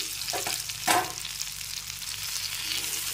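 Chicken legs frying in a covered pan on a gas stove make a soft, steady sizzle, with a couple of brief utensil clicks near the start and no voices.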